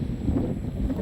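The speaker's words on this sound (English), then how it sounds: "It is so windy." Wind buffeting a microphone outdoors at a radio-controlled model aircraft flying field, a low rumbling gust that lasts about a second, with no voices.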